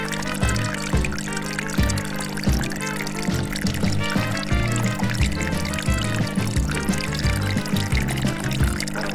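Water from a LEGO Technic pump pours onto tomato plants in a continuous splashing trickle, with a steady mechanical pulsing underneath throughout.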